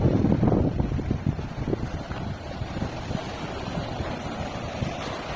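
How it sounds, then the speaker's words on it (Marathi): Waves of the Arabian Sea roll in at the shore below an old coastal fort, a steady broad wash mixed with wind buffeting the microphone, heaviest at the start. "हा अरबी समुद्र आहे"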